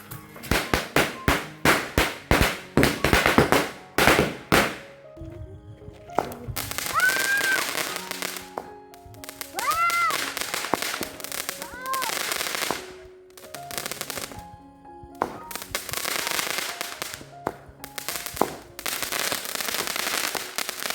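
A string of small firecrackers set off on the eve of Vishu explodes in rapid, loud cracking bursts, starting as a fast volley and then breaking into further crackling runs with pauses between them. Music plays underneath.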